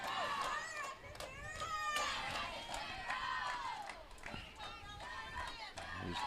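Stigler Lady Panthers softball players cheering and chanting in their dugout during a game with Poteau, a steady chorus of high excited voices ringing out continuously, overlaid by play-by-play commentary.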